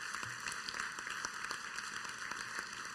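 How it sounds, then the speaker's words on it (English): Audience applause at a credit union annual membership meeting, a steady sustained wash of many hands clapping at moderate level for the full stretch with no pauses. "Can we give them a round of applause for what they're doing?"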